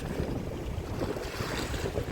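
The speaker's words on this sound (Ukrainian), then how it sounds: "Хвилі, вітер." Wind and waves on the Dnipro river by a yacht club on an autumn day, a soft continuous rush of wind noise with a low watery wash, faint and steady with no talk.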